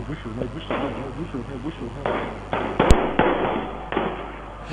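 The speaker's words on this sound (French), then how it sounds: "Ce sont les policiers qui sont en train de tirer comme ça, là, à balles réelles" Police fire live rounds in a tense street scene: a series of sharp cracks and booms, roughly six to eight, spread irregularly and mixed with loud talking voices.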